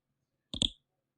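A computer mouse gives a single crisp double click, close and clear, in otherwise silent surroundings.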